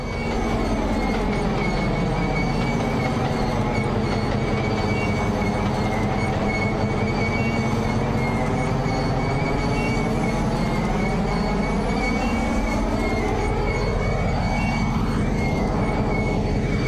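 Amtrak locomotive pulling away in notch 8, a loud, sustained diesel drone with rising and falling engine harmonics and steady rail noise, close and continuous without talk.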